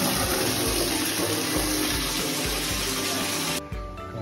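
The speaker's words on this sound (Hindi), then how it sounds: "चलो पानी भरते हैं।" Water gushes steadily from a tap into a bucket for washing a Honda City car, a loud continuous splashing that cuts off abruptly near the end.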